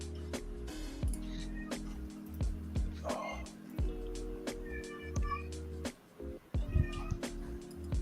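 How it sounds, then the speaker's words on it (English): A cat meows repeatedly at close range, its cries rising and falling over a low steady hum and some background talk. "he's going crazy with the meow"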